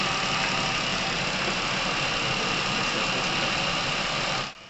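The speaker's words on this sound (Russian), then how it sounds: "двигатель начал работать тише." A car engine idles steadily after being flushed with Dimexide to treat knocking, a close, continuous droning hum that cuts off abruptly at the end.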